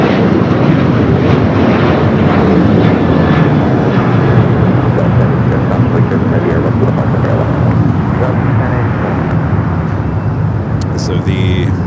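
An Airbus A330 freighter at LAX roars steadily for several seconds, a loud, dense jet-engine rush that stays close and constant with faint distant traffic underneath.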